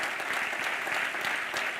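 A church congregation claps steadily, a dense wash of applause at moderate volume with no break.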